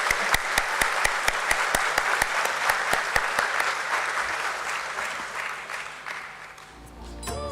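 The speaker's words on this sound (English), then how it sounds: "Let's have a huge round of applause for them," A crowd at a lamp lighting ceremony during a company's stock exchange listing event breaks into sustained, loud applause with sharp individual claps standing out, fading toward the end.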